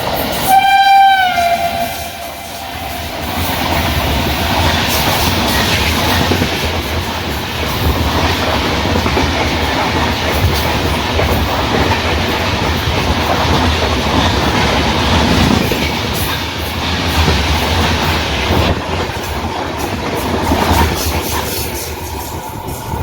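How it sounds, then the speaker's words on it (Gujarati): A red express train rushes past at speed, opening with a loud horn blast and then a long, steady roar of wheels and clattering wagons, close and dominant throughout. "બીજી ટ્રેન નીકળે છે બીજી આ તો એક્સપ્રેસ છે લાલ કલરની"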